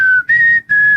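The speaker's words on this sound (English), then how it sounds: "but you can't whistle for shit." A person whistles a steady high tone in three sustained phrases with brief gaps between them, loud and close, with a low background hum beneath.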